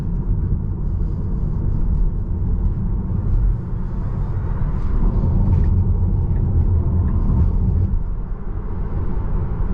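A 2023 Tesla Model 3 accelerates, heard from inside as a steady, loud low rumble of road and drivetrain noise that holds throughout with slight swells.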